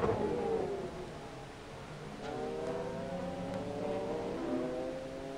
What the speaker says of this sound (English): There's a big fight going on around here with Katsutomo Kaneishi in the number 8 Autobax Honda, Mitsusada in the Raybrig NSX